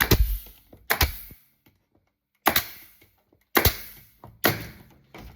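A nail gun fires into wooden beehive frames in five sharp, loud bangs, each with a short rattling tail, spaced irregularly with a longer pause in the middle.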